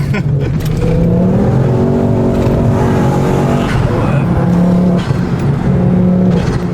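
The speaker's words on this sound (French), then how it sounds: "t'as pas peur d'aller au rupteur en tout cas" A Ford Focus RS engine revs hard up to the rev limiter, a loud, close, strained roar that holds steady pitch, dips briefly and climbs again, filling the whole stretch with no talk over it.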